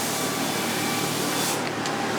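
Spray gun applying black paint to a 1957 Chevy Bel Air in a paint booth, a continuous loud airy hiss that holds steady before dropping off near the end, with no talk.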